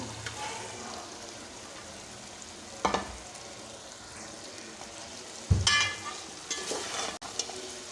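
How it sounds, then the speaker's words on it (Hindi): Okra added to a roasted prawn masala frying in a pan, a soft steady sizzle broken by a few louder bursts and clatters as it is tipped in and stirred. "ये देखिए इसकी भुनाई हो चुकी है और अब मैं इसमें शामिल करूँगी जो हमारे ये भिंडी"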